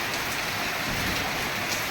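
Steady rain pouring outdoors in a village, a dense, even hiss of drops hitting surfaces close around, with no voices.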